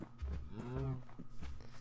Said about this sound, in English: So come here, cows.